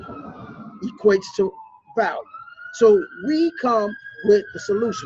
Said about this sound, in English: It's the ambulance coming.